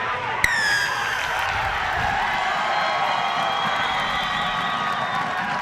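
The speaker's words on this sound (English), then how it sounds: "That gets the crowd from Life going." Life University supporters cheer and roar at a 2015 USA Rugby D1A national championship match against Saint Mary's College, a broad, steady crowd noise that swells after a sharp bang and holds throughout.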